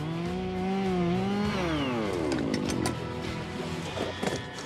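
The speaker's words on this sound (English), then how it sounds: "You want to make sure you hold that chainsaw real level." A chainsaw runs loud and steady, its engine pitch rising and falling as it cuts lengthwise through a felled log for a dugout canoe, with rattling bursts near the end.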